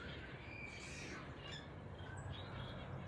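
Canaries and finches calling outdoors at an aviary, a faint scatter of squawks and short chirps over a soft, steady background hiss.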